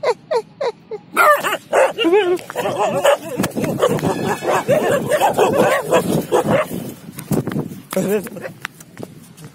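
A dog barks several times in quick succession, then excited voices talk and shout over further yips and barks.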